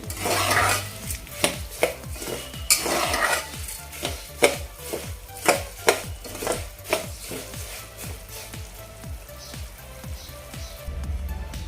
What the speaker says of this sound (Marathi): हे पहा इथे आपली लापशी व्यवस्थित अशी फ्राय करून झाली आहे भाजून झाली आहे किंवा ब्राऊन झाली आहे